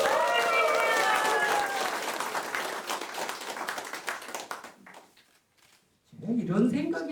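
A press-conference crowd in Dangjin, South Korea claps loudly for the current candidate, a dense burst that thins and stops midway, followed by someone speaking.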